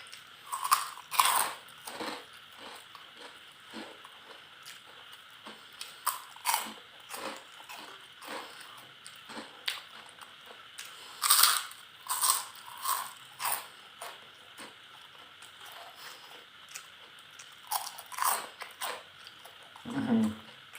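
Crunchy fried pork rinds being bitten and chewed close to the mouth, a long run of sharp crackling crunches coming in bursts with short pauses between.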